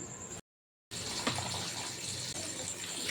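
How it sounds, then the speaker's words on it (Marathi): Fresh spinach leaves being rinsed in water in a home kitchen, a continuous close splashing and sloshing of water that briefly drops out, then resumes steadily, with no voices. "तर याला आता स्वच्छ धुवून घेऊ आपण"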